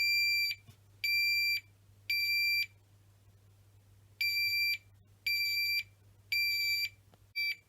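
Repeated bright electronic beeps from a toy fire alarm, seven short evenly spaced tones of about half a second each, close and clear against a quiet background hum.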